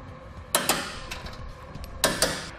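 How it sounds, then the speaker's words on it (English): Ratchet wrench tightening Blue Ox base plate bolts on a 2017 Ford Edge, two quick bursts of rapid metallic clicking a moment apart, close and crisp, with no talk. "we'll go ahead and tighten it down"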